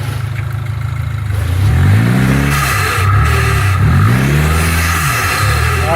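Car engine revved hard while brake torquing to check for weak engine mounts, a loud, near rising and falling roar in repeated surges over a steady idle, with some clatter.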